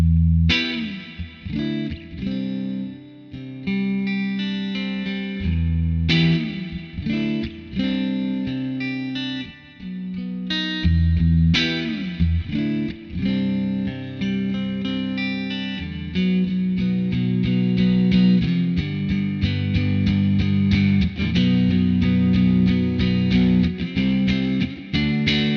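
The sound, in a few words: guitar through NUX Atlantic pedal, spring reverb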